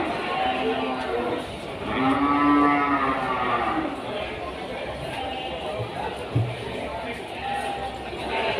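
Cattle low at the Kliwon livestock market in Kudus, with several drawn-out moos mixing with the chatter of the market crowd while someone talks over them.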